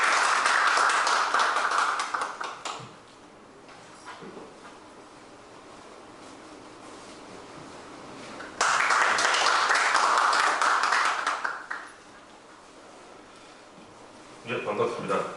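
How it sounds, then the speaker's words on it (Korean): Audience applause in a lecture hall welcoming a keynote professor at a Taekkyeon academic conference, arriving in two loud bursts of clapping a few seconds long with quieter room noise between them and a third burst starting at the end. "많은 박수 부탁드립니다"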